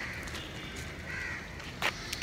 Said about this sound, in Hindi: अब ये देख रहे हो सुबह हो चुकी है, कौवे बोल रहे हैं